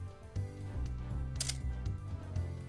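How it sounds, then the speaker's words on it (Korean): A single sharp mechanical shutter click from a Canon A-1 film camera firing after its self-timer, close and crisp, over a faint steady background hum. "2에 놓고 셔터를 누르면은 2초 후에 촬영이 되고요"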